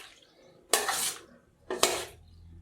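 Boiled pasta being stirred with a couple of spoonfuls of oil in a metal pot for a village-style chicken and vegetable pasta, two broad scraping, sloshing stirs close by, each about a second long, with no talk.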